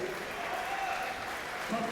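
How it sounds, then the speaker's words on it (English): Steady, dense applause from a crowd after a 150-pound weight class bout, continuous and fairly loud throughout, with voices blended into the wash. "How about a nice round of applause for these gentlemen right here?"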